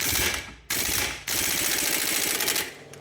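A ratcheting wrench clicks rapidly while backing off the top nut of a sway bar link on a 2008 Infiniti FX35, loud and close, in two short bursts and then a longer continuous run, with no one talking.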